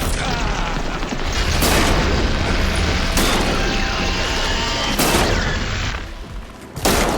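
Gunfire and heavy blasts in the Horizon Forbidden West video game, several sharp loud reports breaking through a dense, continuous roar of combat noise.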